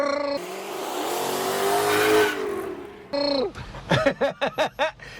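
Engine of a project bakkie pickup truck revving hard under acceleration, a loud sustained rising roar, then a short pause followed by a series of sharp, rhythmic revving bursts close by.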